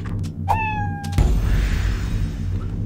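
A cat in the video game Fallout Shelter gives a single clear, drawn-out meow, followed by a burst of game sound effects and background music.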